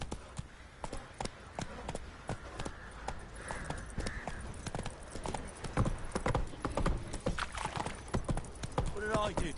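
Roach, a horse in a video game, gallops with a rapid, continuous clip-clop of hooves, close and fairly loud over ambient game sound. A brief voice or neigh-like sound comes near the end.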